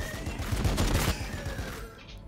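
Cannon fire in the Warhammer 40k Battlesector video game produces a dense, rapid barrage of booming shots that peaks early and gradually fades within about two seconds, with no one talking.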